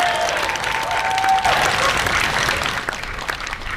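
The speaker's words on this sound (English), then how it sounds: "Let's give him a round of applause." Sustained audience applause fills a May Day workers' gathering in Hawaii, a dense, steady roar of many hands clapping at close range, easing slightly near the end.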